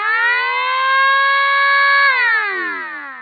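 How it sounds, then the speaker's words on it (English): A medium-frequency siren tone from an E2S Hootronic industrial sounder, set as the stage 2 alarm, holds a loud, steady, harmonic-rich wail for about two seconds and then sweeps downward, with no other sounds present. "Tone 3, the medium frequency siren for stage 2"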